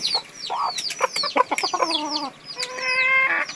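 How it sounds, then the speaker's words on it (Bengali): Free-ranging country chickens on a small rural family farm cluck and squawk close by, a busy run of short clucks with drawn-out calls near the end and no talking. "আমাদের মুরগিগুলো আমরা এখানে রেখে দিছি"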